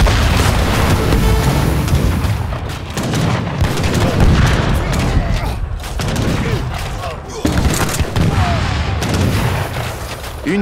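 Explosions in Age of Empires III Definitive Edition, a dense, loud battle barrage of booms and rattling gunfire rolling almost continuously throughout.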